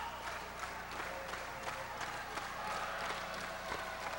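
Wrestling crowd at an NWF Blood Wars event claps in a steady patter of applause, faint and distant, with rhythmic bursts rising and falling throughout.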